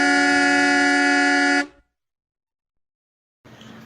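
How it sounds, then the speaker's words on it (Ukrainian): A loud, sustained bus horn blares for about a second and a half, then cuts off abruptly into silence before background noise returns. "А це сигналить автобус."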